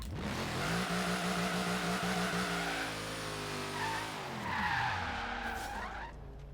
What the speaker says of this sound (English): I like how this car sounds.